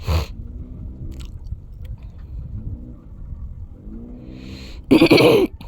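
After a stretch of low rumbling background, one harsh, loud cough bursts out near the end.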